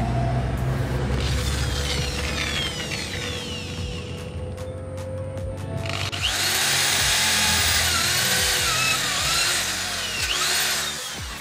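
An electric power drill bores into a trigger mechanism part, whining loudly at close range, dipping briefly midway and then spinning back up into a sustained high-pitched drilling run with no voices.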